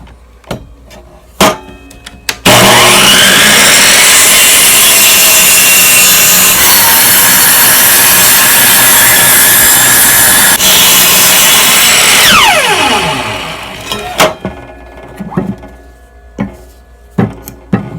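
A saw cuts off about half an inch of cracked wood in one loud, continuous rasping pass lasting about ten seconds, followed by scattered knocks and clunks as the piece is handled.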